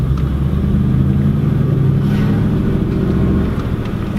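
A manual Ford F250 pickup truck engine rumbles steadily with low, heavy drone, revving slightly as it pulls away slowly in first gear, close and continuous throughout.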